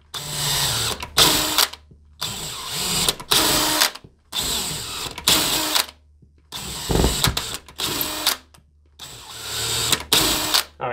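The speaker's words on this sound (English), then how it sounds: "I'm just going to go ahead and put my deck screw in" A drill drives a deck screw into an interior wall while mounting a mini split ductless unit, with five loud whirring bursts separated by short pauses, each running one to two seconds and sounding close.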